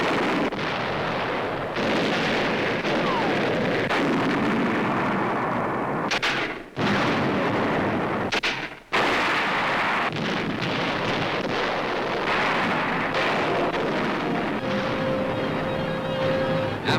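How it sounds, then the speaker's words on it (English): American tanks and mortars fire on German hillside strongholds in dense, continuous wartime battle noise, with rumbling blasts and heavy gunfire rolling on almost without a break. "American tanks and mortars now blast German hillside strongholds in the center."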